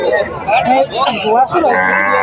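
A red Kandhari cow lows loudly in drawn-out moos, close by, while people talk over and around it at the busy outdoor Loha cattle market in Marathwada, India.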